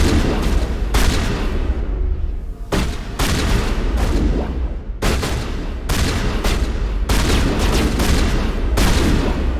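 Rapid bursts of pistol gunfire in a Mass Effect squad firefight, loud and close, with short pauses between volleys and no talking.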